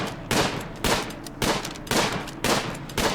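A colonist shooting at turtles in the video game RimWorld, six loud, evenly spaced gunshot bursts of about half a second each, close and sharp, with no talking.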